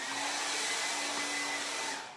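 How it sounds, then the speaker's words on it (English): A hair dryer set on high heat blows steadily with a dense whoosh and a constant motor hum, loud and close, running without pause. "I said pray before you use this hair dryer."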